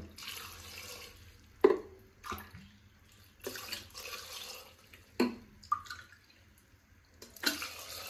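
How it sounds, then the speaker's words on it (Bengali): Water pours into a cooking pot holding cut potatoes for a ghugni curry, coming in several bursts of splashing and trickling separated by short quiet gaps, with occasional clunks from the pot. "আর দিয়ে দেব এখানে পরিমাণ মতন জল"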